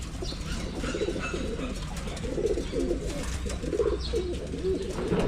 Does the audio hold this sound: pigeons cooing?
yes